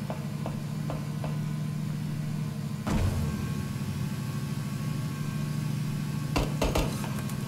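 Vehicle engine in the battle royale game PUBG, a steady mid-pitched motor drone running throughout, with a brief surge near three seconds and a few sharp clicks and thuds over it.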